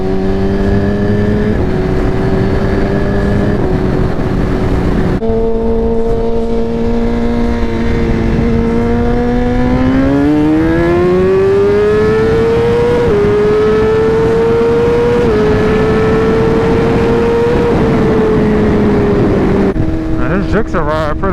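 Suzuki GSX-R 1000R sport motorcycle engine while riding, a loud steady drone that climbs and falls with gear changes throughout, with a wind-rushing backdrop and a brief throttle dip partway.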